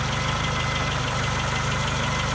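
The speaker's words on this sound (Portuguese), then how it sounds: "Esse aqui é o meu motor, ó. AP da Pampa, original, tá?" A Ford Pampa with its original factory AP engine and a 2E-CE carburettor fitted with an adapted choke idles close by, giving a steady, even low rumble with a regular pulsing beat and no talk.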